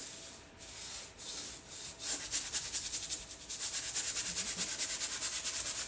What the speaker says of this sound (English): I'm using a bristle brush which can take the scrubbing